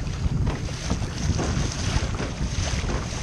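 A small fishing boat crosses a choppy channel in strong wind, with a steady loud roar of engine, water slap and wind buffeting the microphone throughout, no voices.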